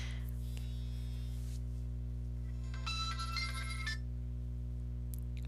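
A mobile phone ringtone chimes as a short burst of bright electronic tones in a quiet craft room, with faint earlier tones and a steady electrical hum underneath.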